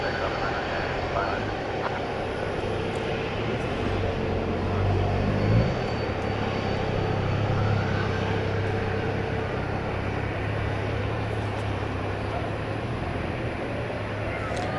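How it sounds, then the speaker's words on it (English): An American Airlines Airbus A321neo jet departs at night, its engines a steady, loud rumbling roar that swells slightly partway through. "558 to Salt Lake City. One of those Airbus A321 Neos that you've heard so much about."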